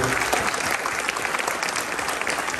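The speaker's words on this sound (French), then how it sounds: "je crois qu'on peut aussi les applaudir" A crowd at a mayor's New Year wishes ceremony in France claps steadily, a dense, even round of applause at moderate loudness with no talk over it.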